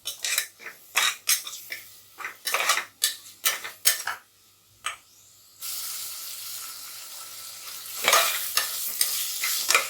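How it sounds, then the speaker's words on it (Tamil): Tomatoes for chicken biryani sauté in a pan, with a run of sharp, close stirring scrapes and clinks at first, then a steady hissing sizzle that grows louder near the end. "தக்காளி நல்லா வதங்கி பேஸ்ட் ஆகணும்"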